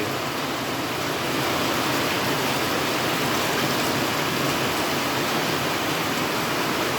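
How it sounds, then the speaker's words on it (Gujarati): Steady monsoon downpour in the Patan area, a dense, even hiss of rain falling continuously and loudly throughout, with no voices over it. "આજે વરસાદની ઋતુમાં વરસાદ વરસી રહ્યો છે."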